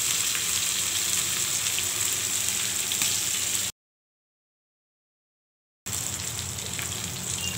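Chicken leg pieces frying in coconut oil with curry leaves, a dense steady sizzle that cuts to silence for about two seconds before the frying resumes, no talking.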